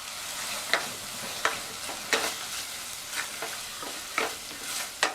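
Rice stirred with curd, mint and coriander leaves in a pan for a lunch box variety rice, soft scraping strokes at a regular pace over a quiet sizzle, with no talking.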